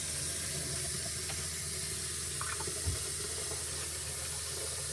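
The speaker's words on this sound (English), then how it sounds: "I can just turn the spigot on here. Fill this thing up as it's pumping." Water runs steadily from an outdoor spigot into a jug while a pump works, a continuous fairly quiet hiss and trickle with no talking.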